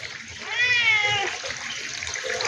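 A cat gives a single clear, drawn-out meow, close by, over a steady background wash of running water.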